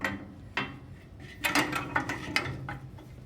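Hand cutters for HVAC duct board being picked up and handled: a few sharp metallic clanks and clicks at irregular intervals, close by, with no talking.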